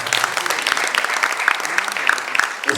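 An audience at a stage drama production claps steadily for a few seconds. The applause is moderately loud and continuous, with individual hand claps standing out.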